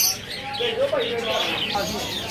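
Parrots and other caged birds chirp and tweet in a bird shop, several overlapping calls running steadily throughout, close by amid a busy room with a voice speaking.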